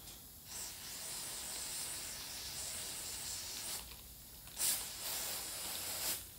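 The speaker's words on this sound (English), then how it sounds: "we're just gonna take some of this throttle body cleaner and just give it a really good clean off" Aerosol throttle body cleaner sprayed onto a part from a BMW M57 engine: a steady close hiss lasting several seconds, with brief pauses and short renewed bursts, no talking.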